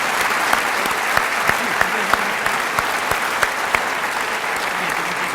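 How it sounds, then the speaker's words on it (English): Steady audience applause at a school awards night, a dense continuous wash of clapping with a few sharper individual claps standing out, lasting throughout. "let's have a round of applause for the people that helped put this together"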